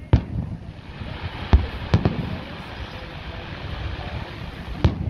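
Fireworks go off in a Fourth of July show at Redondo Beach: several sharp distant booms crack out at irregular intervals over a steady rumble of wind and crowd noise.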